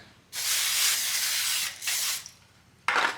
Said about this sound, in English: I'm gonna spray them with olive oil here.